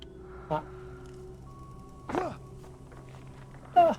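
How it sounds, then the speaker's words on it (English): Breathing in the Alan Wake video game, three separate sharp breaths or gasps spaced out over a quiet, humming background, the last one loudest and closest. "I hear breathing."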